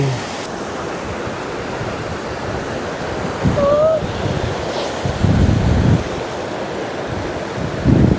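Rushing mountain river water near Mestia in Svaneti, a loud, continuous broadband roar with gusts of wind buffeting the microphone and brief faint sounds over the torrent.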